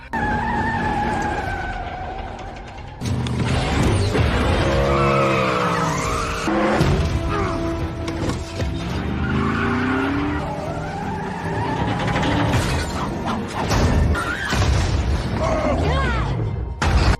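Cars flip and crash in a Fast & Furious 8 film chase: loud tire skids, engine roar and heavy booming impacts follow one another densely, with voices breaking in at times.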